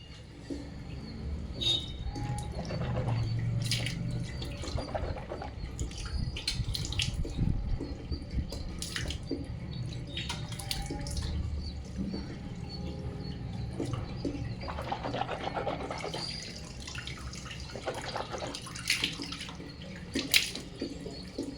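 Water poured and splashed during washing, a steady running, tap-like flow with scattered drips and faint splashes throughout, fairly quiet and close, with no talk.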